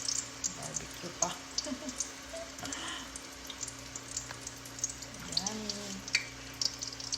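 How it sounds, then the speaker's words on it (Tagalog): Banana cue sizzles in a large frying pan, a steady close crackle and hiss with scattered pops and stirring scrapes, while a person speaks briefly over it. "Dahil malaki yung frying pan ko, pwede siyang ilagay lahat para sabay-sabay ng maluto"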